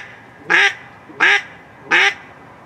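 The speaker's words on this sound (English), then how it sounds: "It's a mallard." Three loud, evenly spaced quacks from a mallard duck, close by and standing alone with no talking over them.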